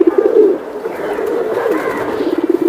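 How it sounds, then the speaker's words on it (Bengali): Silver hammer pigeons coo nearby, a loud rolling throaty call that swells at the start and continues in a pulsing, wavering murmur. "এটা সিলভার হ্যামার কবুতর ভাই"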